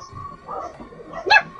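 A speedrunner's dog gives a short, sharp yip near the end, preceded by soft whimpering sounds close to the microphone, with faint voices in the room.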